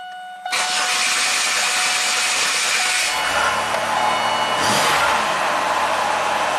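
A Pontiac engine, recently repaired after running rough, cranks and catches abruptly, then settles into a loud, steady, even idle close by, with a slight shift in tone partway through.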